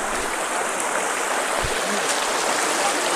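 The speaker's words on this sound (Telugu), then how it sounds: "వాటర్ అయితే ఎలా ఫ్లో అవుతున్నాయి కదా" Water rushing down a rocky stream at Rapur waterfalls, a steady, dense, near roar of flow that fills the whole span without pause.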